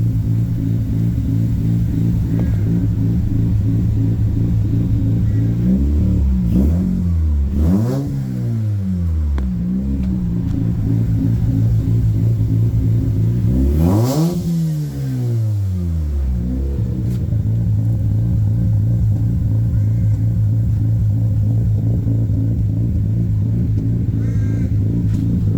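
A Mazda RX8 with a bridgeport-ported rotary engine idles with a steady rumble, then is revved twice in sharp rising-and-falling sweeps before settling back to a lumpy idle, close and loud throughout.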